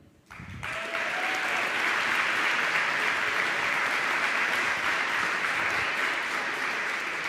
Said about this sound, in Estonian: aplaus talle, nagu te praegu tegite